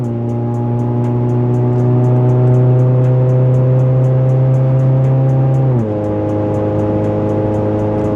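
A 1996 Honda Civic EJ9 engine held at full throttle, a loud steady drone that climbs slowly in pitch, then drops sharply at a gear change and pulls on, heard close from inside the car.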